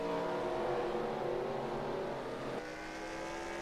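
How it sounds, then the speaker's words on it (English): Race car engine in a sim racing game at Lime Rock, holding a steady droning tone, briefly easing off, then pulling back onto the throttle with a sustained loud whine, no talk over it. "Hear him get back up into the throttle there."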